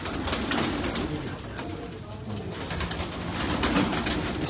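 Pigeons cooing on a rooftop in Karachi, with soft repeated throaty coos close by over a busy background of rustling and ambient noise.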